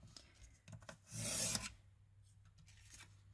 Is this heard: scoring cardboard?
yes